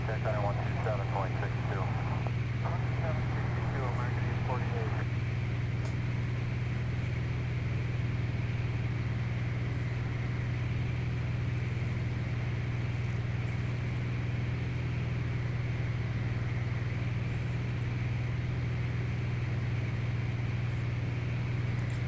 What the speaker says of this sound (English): This is a turbocharged Bonanza, so we're going about like 200 knots.